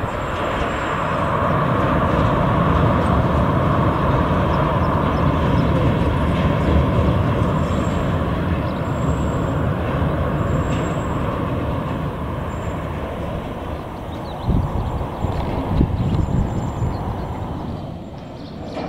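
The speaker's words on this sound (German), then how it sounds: "Der Beladevorgang durch die Schüttkutsche geht erstaunlich schnell." A steady, loud rumbling hum of a narrow-gauge train idling at a soda works loading bunker in Staßfurt, with a continuous drone, faint high whistles, and occasional clunks toward the end.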